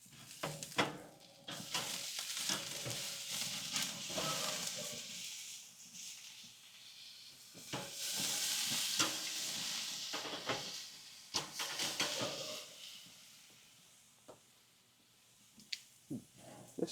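Ribeye steaks searing on an open Kettle Joe grill give off a steady sizzle that rises and falls, broken by scattered clicks and scrapes of handling, with no talking.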